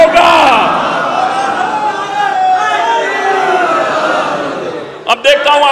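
A crowd at a religious majlis gathering in Jogipura, Bijnor chants slogans of Ali, a loud chorus of massed voices rising and falling, with yells and whoops near the end.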